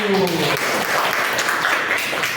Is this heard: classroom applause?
yes